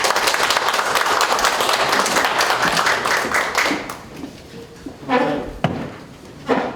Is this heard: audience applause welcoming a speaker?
yes